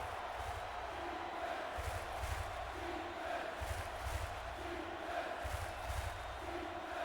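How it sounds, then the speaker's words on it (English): Kingston Gators fans at a football game keep up a distant, steady crowd roar, with rhythmic chanting and cheering that swells and falls in repeated pulses. "The Kingston Gators crowd lively."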